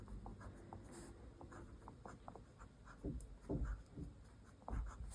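Medium-nib olive green Lamy Studio fountain pen scratching across paper, soft irregular strokes with a few firmer taps, close and quiet.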